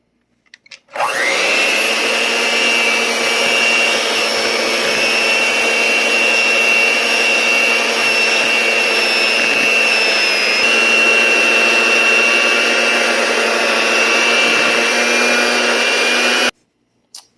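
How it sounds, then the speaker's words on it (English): A hand mixer whips cream cheese frosting with vanilla, powdered sugar and a pinch of salt in a mixing bowl, giving a loud, steady motor whir that runs for about fifteen seconds with no voices. "I'm using this mixing bowl and my hand mixer"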